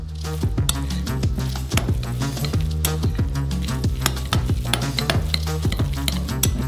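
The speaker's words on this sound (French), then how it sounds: "On ajoute du sel, de l'oignon séché et la fécule de maïs comme agent liant. Et on mélange bien." Potatoes being stirred in a bowl with salt, dried onion and cornstarch, a steady run of close, wet squishing and scraping strokes with occasional light clinks.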